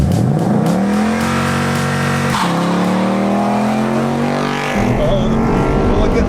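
A Genesis G70 and a Mustang Bullitt drag race from a stoplight, a loud close engine revving hard through rising gears with a sharp shift break midway and another near the end.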